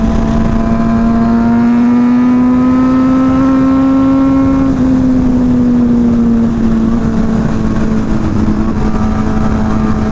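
Hyper naked motorcycle engine roaring steadily while riding, a loud sustained drone with a slowly rising then easing pitch, up close with wind rush and no talk.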